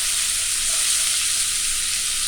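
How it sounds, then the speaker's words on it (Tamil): Onion frying in a pan for green gram dosa, a loud, even, close sizzling hiss that holds steady throughout with no voices. "அதுக்காக இது இப்போ ஆனியன் வறுக்க போகிறேன்."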